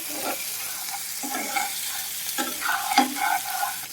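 Vegetables for fried rice sizzle steadily in a hot pan while a spatula stirs and scrapes them in a few irregular bursts, close and fairly loud, with no talking.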